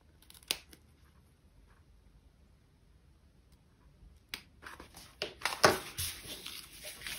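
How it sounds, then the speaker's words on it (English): Scissors snip fabric close to the corner stitches of a handmade bag: one crisp cut early on, a quiet stretch, then a denser run of short, close snips toward the end. "you're going to cut as close as you possibly can to these corner stitches, but do not cut through your stitches"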